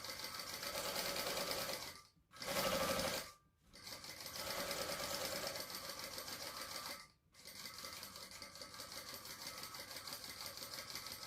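A sewing machine top stitches a sling bag in long steady runs, stopping twice briefly before starting again, close and clear with no voices.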